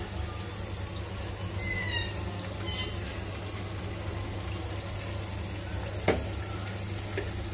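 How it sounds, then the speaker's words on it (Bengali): Vegetables fry in hot oil in a home kitchen as a faint, steady sizzle, with a low hum beneath it and a few brief clinks. "তেল দিয়ে দিতেছি সবজির জন্য"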